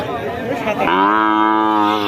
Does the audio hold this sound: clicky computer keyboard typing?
no